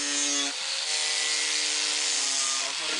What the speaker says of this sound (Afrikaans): dan laaste gaan ons die rande skuur net om 'n bietjie karakter aan die tafel te gee